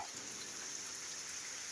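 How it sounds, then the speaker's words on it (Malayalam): Steady, faint rain hisses outdoors during a fishing trip by ponds, as an even, distant patter with no other sounds. "ഷൂട്ടിങ് നടക്കുന്ന സമയത്താണ് മഴ."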